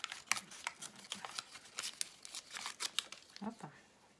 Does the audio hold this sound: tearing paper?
yes